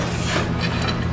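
Die grinder cleaning up custom turbo header parts for a Mystichrome Cobra: a continuous, loud, close grinding and rasping hiss lasting about a second, steady in level with no talking.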